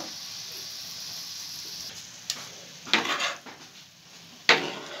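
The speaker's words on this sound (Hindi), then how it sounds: "ये हम यहाँ पे ऐड करेंगे और इनको यूँ अच्छी तरह से मिक्स करेंगे।" Boiled rice being stirred and mixed in a pan for tawa pulao, with a steady faint sizzle and a few louder scraping clatters of a spoon against the metal.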